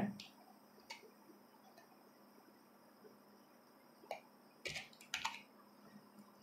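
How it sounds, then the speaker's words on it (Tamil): Keys on a computer keyboard tapped while entering a captcha code during IRCTC railway account registration: a few sparse, faint clicks, clustered near the end, over a quiet room hiss. "ஸோ கீழே அந்த கேப்சர் கோட் இருக்குது அதை வந்து டைப் பண்ணிடுங்க"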